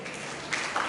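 Audience applause after a speaker finishes at a career guidance session, a steady wash of clapping that swells briefly near the end, no voices over it.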